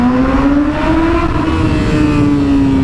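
A Yamaha R6 motorcycle engine drones loud and close, its pitch rising steadily as it revs through a single sustained pull.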